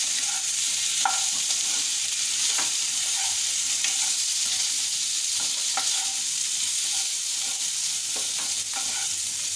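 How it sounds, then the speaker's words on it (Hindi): Cumin powder and spices frying with baby potatoes over low heat, a steady close sizzle with periodic scraping clicks of a spoon stirring, and no talk. "इसको भी इसके साथ फ्राई कर लीजिए।"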